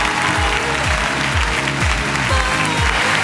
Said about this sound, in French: un tonnerre d'applaudissements pour Marianne James, Sugar Sammy, Hélène Ségara et Eric Antoine